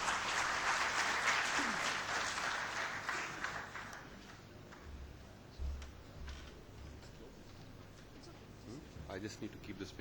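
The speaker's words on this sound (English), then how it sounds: "Please give him a big round of applause." Applause from a conference audience at a corporate finance gathering, loud and broad at the start, then thinning and fading over several seconds, with a brief low thump midway and faint talk underneath.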